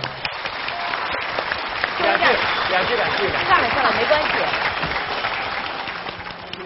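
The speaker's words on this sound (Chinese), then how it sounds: "来我们掌声" A studio audience applauds for a sustained stretch, the clapping swelling in the middle while a few people speak briefly over it.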